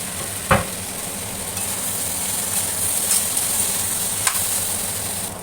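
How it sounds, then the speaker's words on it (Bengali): Diced potatoes and peas sautéing in a hot pan, a steady sizzle with occasional sharp scrapes and knocks as they are stirred, close and continuous with no talking. "এই যে আলু মটর সব ঠিক মতো কষা হয়ে গেছে"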